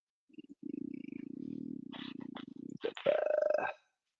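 A domestic cat purrs steadily close to the microphone in a rhythmic low rumble for a couple of seconds, then gives a short rising vocal chirp at the end.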